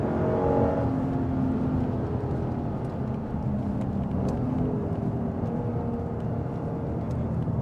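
A Lexus RC F sports car driven hard on a race track gives a continuous loud engine drone heard from inside the car, with shifting pitch as revs rise and fall and steady road and wind roar beneath, no voices.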